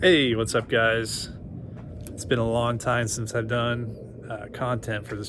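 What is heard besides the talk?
No distinct noise like a dog, phone or traffic.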